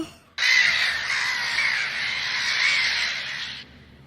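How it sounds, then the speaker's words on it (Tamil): A cartoon crow gives a single long, harsh, sustained caw, loud and close, lasting about three seconds before cutting off. "அப்போ கொஞ்சம் கூட எதிர்பார்க்காம ஒரு காக்கா நான் சமைச்சிட்டு இருக்க இடத்துக்கு வந்துச்சு."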